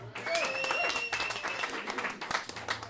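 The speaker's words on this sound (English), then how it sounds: "Please give him a clap." Pub crowd at the Jolly Coopers acoustic jam in April 2013 claps for a performer, dense clapping mixed with chatter and a voice talking over it, along with brief whistle-like tones early on.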